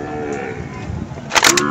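Cattle at a busy animal market in Jonggol, a low steady murmur of livestock and crowd with a brief louder burst of noise near the end.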